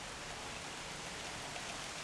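Steady, even rain hiss fills the whole clip, a constant wash of falling drops with no other sounds standing out.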